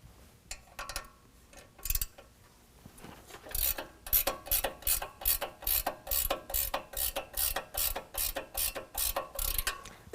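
A ratchet wrench clicks in quick, regular bursts as an 18 mm bolt is loosened on a 2021 Ford F-150 during a leveling kit install, close and fairly crisp, the rhythmic ratcheting gaining pace after a few slower strokes.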